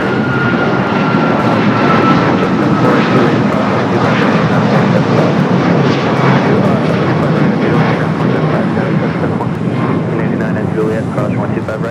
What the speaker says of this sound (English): That's a flight to Reagan National taking off here on the south side.